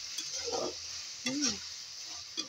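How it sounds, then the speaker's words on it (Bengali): Tomato and spices frying in oil give a steady faint sizzle, with soft stirring scrapes and a quiet voice talking over it. "কিছুক্ষণ এইভাবেই হবে আর কি, ফ্রাই করে নিতে হবে এটা তেলের মধ্যে।"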